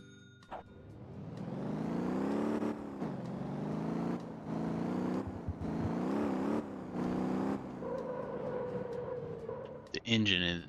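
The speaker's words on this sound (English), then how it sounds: "The engine in this thing just sounds awesome." A small bus engine in the driving game Motor Town revs repeatedly in rising and falling surges, loud and close, with short gaps between pulls and a brief clatter near the end.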